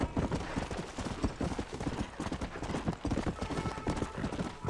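A horse in Red Dead Redemption gallops with steady, rapid clip-clop hoofbeats on the ground. The hooves are loud and close and run throughout without a break.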